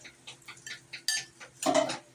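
A spoon stirs Hawaiian chicken salad with grapes in a bowl, giving a run of close, soft scraping and clinking strokes that end in a louder, busier scrape, with no talking.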